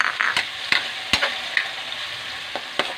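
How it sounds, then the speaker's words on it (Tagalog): Pork ribs and garlic seasoned with fish sauce sizzle in a frying pan, a constant hiss broken by a few sharp scrapes and knocks of stirring at irregular intervals. "Yung tunog ng sintinyal kong kawali."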